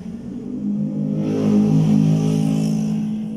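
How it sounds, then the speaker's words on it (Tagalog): Car engines drone past continuously, swelling louder in the middle as a vehicle passes nearby, with no talking. "Pasensya na po sa ingay ng mga sasakyan."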